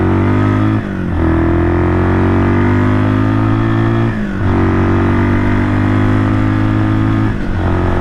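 A 1978 Kawasaki KL250 motorcycle with a newly installed carburetor, heard up close while riding: a steady, loud engine drone that briefly dips and surges at each of three gear shifts.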